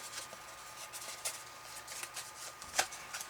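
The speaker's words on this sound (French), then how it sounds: "je viens faire mes plis en insistant bien" Card paper being creased into folds, firm rubbing and scraping strokes repeated at an uneven pace, quiet and close, one sharper stroke near the end, with no voices.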